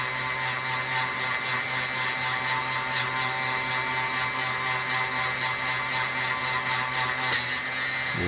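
Steady, close whine of a rotary drill boring through a polished labradorite cabochon, holding an even tone until a shift in pitch near the end as the bit breaks through; no voices.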